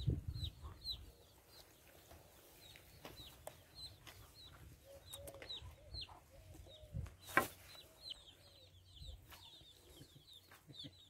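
Chickens cluck in a series of short, scattered calls at moderate distance, with occasional louder squawks and rustling, the sounds faint against a quiet outdoor background.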